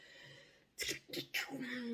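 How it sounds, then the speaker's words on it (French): A single close sneeze bursts out after a brief quiet breath, followed by a short sniff or exhale. "Je vais éternuer, je pense."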